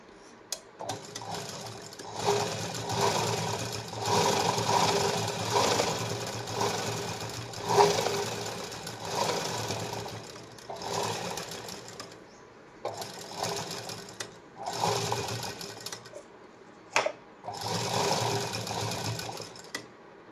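A domestic sewing machine stitches lace onto the back panel of a cotton katori blouse, running in several bursts of steady whirring with short pauses between them, close and fairly quiet with no talking.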